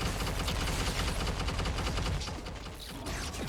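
Turrets firing in the action RPG Wolcen: Lords of Mayhem, a dense rapid mechanical rattle of shots that stays loud and continuous, briefly dipping near the end, with no talk.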